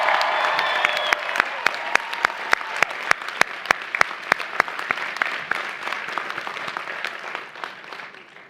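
Crowd applause for graduates at a City College of New York commencement, a large audience clapping continuously with sharp individual claps standing out, and a brief voice at the start.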